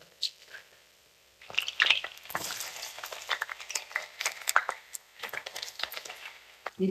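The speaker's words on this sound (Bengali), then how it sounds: "পেঁয়াজ ভাজা চলছে, আমাদের বেরেস্তা ভাজা।" Sliced onions frying in oil to make birista for a chicken roast: a soft crackle and sputter of tiny pops, quiet and close, continuing steadily after a brief hush at the start.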